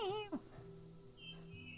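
A house cat gives a brief meow near the start, a short rising call, then the room goes quiet with faint background hum.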